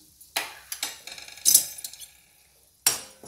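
A spoon stirs wheat flour as it roasts in ghee in a pan, giving a few sharp metallic clinks and scrapes in uneven bursts with quiet gaps between them.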